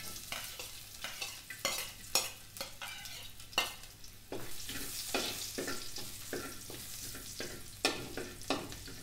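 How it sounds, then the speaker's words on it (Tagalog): Garlic sautéing in a reduced amount of oil in a pan while fish bistek is being made, a steady sizzle broken by repeated sharp scrapes and stirring knocks from a utensil against the pan. "Magigisa na tayo ngayon. At medyo nagbawas kami ng konting mantika. Ilagay natin ang bawang."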